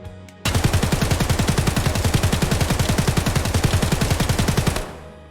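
An SA-58 rifle fires full auto in the game Escape From Tarkov: one loud, close, unbroken burst of rapid, evenly spaced shots lasting about four seconds, then it stops sharply and a short tail fades out.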